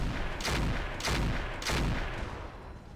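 Weapons fire on a vehicle in the video game Roguetech: three heavy booming volleys spaced about half a second apart, loud and dense, trailing off into a rumbling tail.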